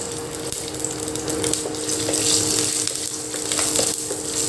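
Garlic and cumin seeds frying in hot oil in a home kitchen, giving a steady, close crackling sizzle with small pops, alone and without talk.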